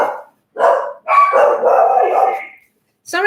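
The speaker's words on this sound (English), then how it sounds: "I got my daughter's dogs over, Daisy and Lacey, and one starts going, then it gets the other one going" Two dogs bark excitedly at someone at the door, indoors in a home, a burst of close, loud barking and yipping in rapid bouts with brief pauses, no speech over them.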